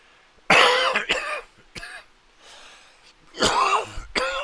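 A few harsh coughs, close and loud, in quick bursts with a pause between, followed by a brief throat-clearing and another pair of coughs.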